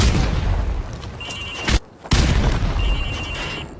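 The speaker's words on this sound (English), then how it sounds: "Now throw a grenade into windows 2," A grenade thrown into a window bursts in the Call of Duty Modern Warfare training course, a dense roaring blast, a brief sudden drop to near-silence, then a second heavy rumbling explosion with a thin ringing tone over it.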